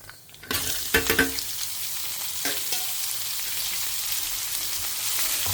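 A tempering of mustard seeds and dal crackles in hot oil, then gourd with chilli flakes and salt goes in: a few sharp pops and clatters early, settling into a continuous close sizzle.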